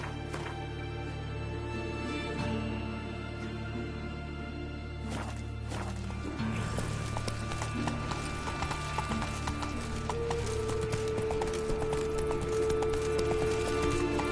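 The horse Roach from The Witcher 3 moving at speed, hooves clip-clopping in a rapid steady rhythm, close and fairly loud, with a brief whinny-like burst and game ambience around it.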